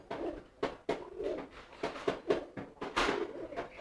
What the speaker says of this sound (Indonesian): ini merpati kipasnya nih